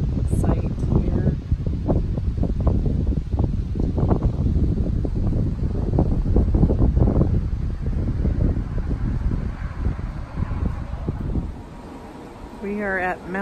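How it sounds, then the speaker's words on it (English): Strong wind at the Old Man of the Mountain site near Mount Lafayette, New Hampshire, buffets the microphone in loud, gusty low rumbles that ease off toward the end, with faint voices partly audible beneath. "Pretty windy, not too bad temperature-wise."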